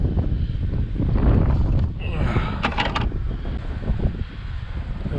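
Steady wind buffeting the microphone late at night outdoors, with a low, rough rumble, plus a brief faint higher rattle partway through.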